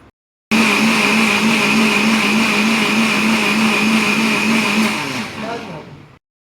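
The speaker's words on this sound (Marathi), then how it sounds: "इथे मिक्सरमध्ये दही घेतलं आहे।" A kitchen mixer blends curd and water into buttermilk, running as a loud steady whirring drone for about five seconds before winding down and stopping, close by with no talking over it.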